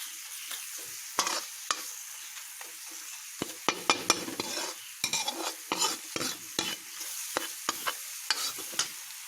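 Spices roasting in a pan for a carrot and pea curry, with a soft steady sizzle broken by repeated sharp scrapes and stirs of a spoon against the pan, close and alone with no talk.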